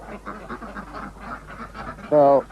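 Several ducks quack in a busy, overlapping chatter, with one louder, close quack at the end.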